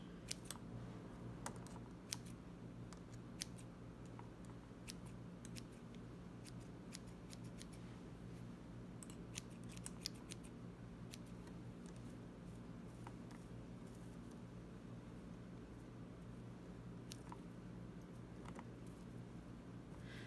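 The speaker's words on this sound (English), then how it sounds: "we'll trim it off with thinning shears" Thinning shears snip through hair in quick, faint, irregular clicks, close by and otherwise quiet, scattered across a low steady background hum.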